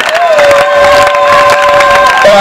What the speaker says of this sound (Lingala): Est-ce que tu peux applaudir pour ce Jésus?